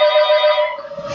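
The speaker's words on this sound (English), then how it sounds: "I gotta get the phone here in a minute." Telephone ringing: a brief electronic ring tone, loud and close, cutting off after about a second.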